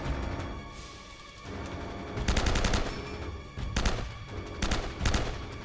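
Sustained bursts of gunfire in the Uncharted: Drake's Fortune video game, with rapid fusillades and machine-gun volleys surging in repeated loud waves over a dense battle backdrop.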